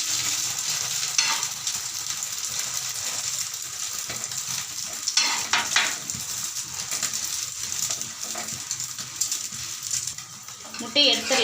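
Egg-dipped bread omelette frying in a pan, a steady bright sizzle with occasional scraping and flipping sounds, while a person speaks over it.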